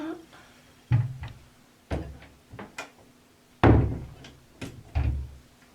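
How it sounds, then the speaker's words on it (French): An indoor door is pushed shut with a series of sharp wooden thumps and bangs, spaced about a second apart, close by and loud against a quiet room. "Non, je ferme la porte."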